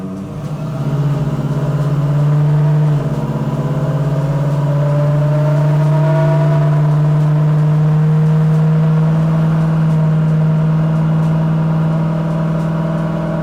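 A car with a supercharged GM LS9 V8 runs in gear on a chassis dyno, holding a loud steady drone with a strong low hum and a slowly rising whine, close and continuous for the whole stretch.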